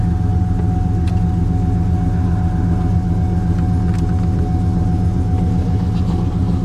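Engine of a wrecked Porsche Boxster idling, a steady low rumble with a constant hum heard from inside the car, with faint clicks over it.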